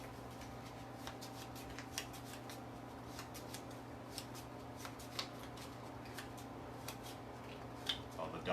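Playing cards for the cycling board game Flamme Rouge are shuffled by hand at a table, with quiet riffles and soft card snaps at irregular intervals over a low room hum.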